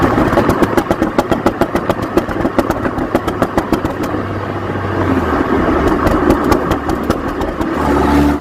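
Car engine idling with a Stage 2 bootmod3 tune, its exhaust putting out a rapid burbling, bubbly pulse with a rattly, tinny edge; loud and close, the pulses steady throughout with a slight swell near the end.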